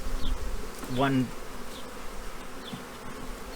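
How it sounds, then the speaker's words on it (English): Two honeybees fight inside a hive during a close inspection, giving a sharp rising buzz that lasts about a second. Softer bee hum runs underneath, and a single brief spoken word is heard. "there's 2 bees fighting in here trying to sting each other"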